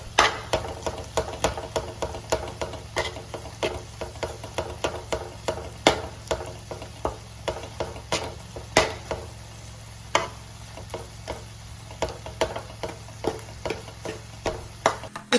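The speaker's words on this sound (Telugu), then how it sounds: "ఇప్పుడు ఆ ఆయిల్లో కారం వేసుకొని బాగా వేయించుకోవాలి" Chili powder stirred and fried in hot oil, a steady low sizzle under a run of sharp, regular spoon scrapes and clicks against the pan, close and fairly quiet, with no voices.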